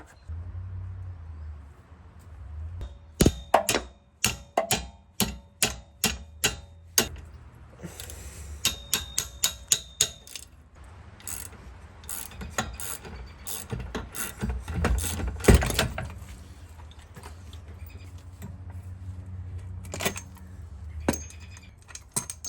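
A ratchet works on the bottom bolt of a shock absorber on a high-mileage BMW E46: bursts of sharp, rhythmic metallic clicks, close and distinct, with clanks of tools between the runs.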